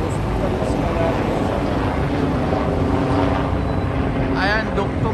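Helicopter flying over a hospital at Queen's Park in Toronto, giving a steady, loud rotor drone throughout, with a brief higher whine near the end.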